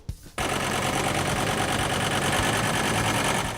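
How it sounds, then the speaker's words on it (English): A John Deere tractor engine runs in a muscadine vineyard in Macon County, a steady, loud, close mechanical rumble with a rapid chugging texture that kicks in after a brief quiet start and holds constant to the end. "Tim Watkins has spent most of his September weekends atop his John Deere tractor"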